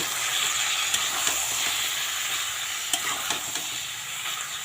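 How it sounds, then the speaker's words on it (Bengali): Banana flower curry is stirred and tossed in a hot frying pan, giving a continuous close sizzle with occasional sharp scrapes and clicks of the spatula against the pan. "এখন এইটা এখন একটু উল্টো পাল্টা করে নেড়ে নেব"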